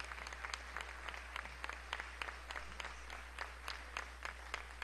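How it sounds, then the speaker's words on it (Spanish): An audience applauding at the opening ceremony of an international theatre festival, steady moderate clapping heard from a distance alongside a low mains hum. "Un aplauso para nuestros hermanos de México."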